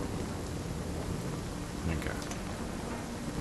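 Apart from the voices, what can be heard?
rain starting in video game Nightingale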